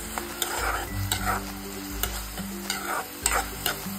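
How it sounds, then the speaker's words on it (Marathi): Tomato puree sizzles and sputters in hot oil while a spoon stirs and scrapes the pan in repeated strokes, close and fairly loud, with no talking. "आता ना हे तेलावरती छान असं परतून घेऊयात।"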